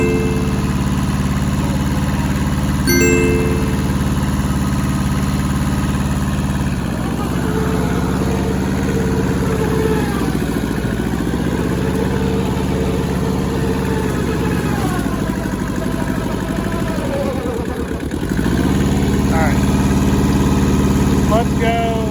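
An old, rusty Hinomoto tractor engine runs at a steady, throbbing idle, close and loud, with a deep continuous drone and small shifts in pitch. Someone talks over it now and then.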